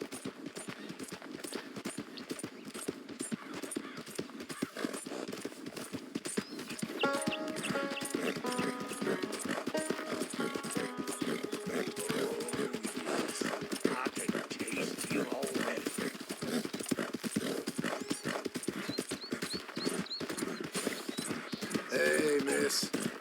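Steady clip-clop of horse hooves in Red Dead Redemption 2, a continuous rhythmic trot close by, running under in-game background sounds and occasional voices for the whole stretch.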